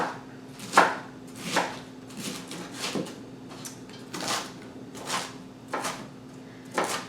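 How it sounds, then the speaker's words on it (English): A knife roughly chopping food on a board for cabbage rolls, about ten sharp, close knocks spaced irregularly under a quiet background hum. "Alright, so I'm going to just kind of give it a rough chop."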